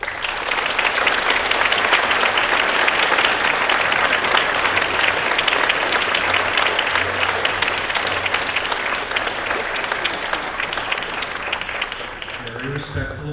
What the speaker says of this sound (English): Very respectful applause.